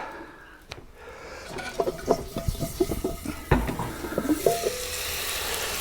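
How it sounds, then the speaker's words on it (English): A cast-iron Dutch oven holding a sirloin roast with potatoes and carrots is lifted out of a Kamado grill: scattered metallic clanks, scrapes and lid knocks of moderate loudness over a faint sizzle, with no talk. "Take the Dutch oven out."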